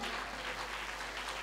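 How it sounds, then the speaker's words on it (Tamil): A church congregation at a night prayer meeting claps hands in a dense, continuous burst. The brief wash of applause is steady and fairly loud, with no voices over it. "கரங்களை தட்டுங்கள் பார்க்கலாம்"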